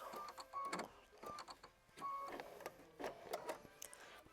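A sewing machine works a triple run stitch through the orange of a quilt block, giving a faint, close series of uneven clicking, rattling bursts and short mechanical whirs.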